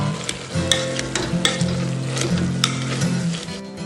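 Potato masala filling for masala dosa being stirred and mashed in a hot pan with coriander leaves, a steady sizzle broken by repeated spoon scrapes and knocks, close and fairly loud with no talking.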